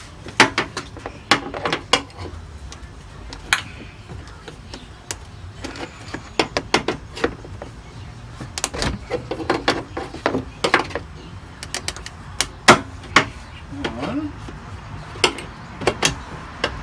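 A flathead screwdriver pries plastic trim connectors off a Town & Country car door panel, giving many sharp clicks and snaps at irregular intervals with faint scraping and handling between them.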